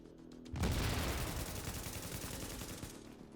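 A grenade explodes in the video game The Division, a sudden loud blast followed by a rapid burst of gunfire rattling on for a few seconds.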